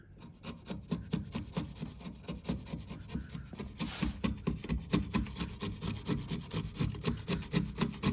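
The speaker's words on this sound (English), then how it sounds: "just using the chisel to level off the bottom" A chisel pares wood at the bottom of a T-halving joint in quick, rhythmic scraping strokes, close and fairly quiet, repeating steadily throughout.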